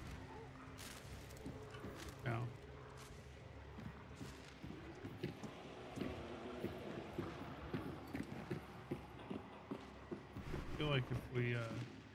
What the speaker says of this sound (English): I see a horse with a saddlebag. Ooh, I hear chains.